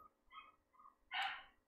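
A pet dog at home gives a short, faint whine followed by one sharp bark, with quiet pauses between the sounds and no talking.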